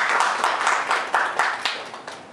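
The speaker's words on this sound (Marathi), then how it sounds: "टाळ्या वाजवून त्यांचं आपण स्वागत करूया" An audience at a gathering claps to welcome a guest: a short burst of steady, moderately loud applause from a group, with no talking over it.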